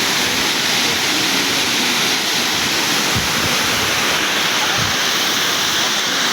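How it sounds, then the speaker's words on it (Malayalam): Valanjanavattam waterfall in full flow, a loud unbroken roar of foaming, rushing water heard close, steady throughout with no voices. "വളഞ്ഞാനവട്ടം വാട്ടർഫാൾസ്"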